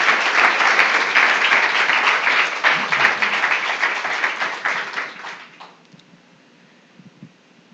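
A church congregation applauds for several seconds at a Spanish-language service. The dense, steady clapping fills the room, then fades out around the fifth second into near quiet with a few faint sounds.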